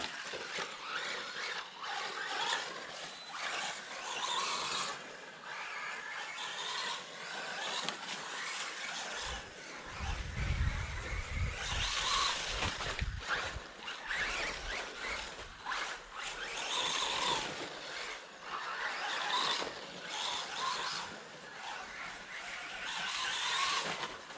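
A Wltoys 124018 brushless RC car with a 2S 2200mAh battery, its motor whining steadily on throttle with rising and falling pitch, alongside scuffing and skidding noise, loud and continuous throughout.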